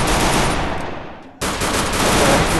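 Rapid automatic gunfire in a Free Fire clash-squad match, loud sustained bursts that briefly thin out before a fresh volley kicks in, with no talk over it.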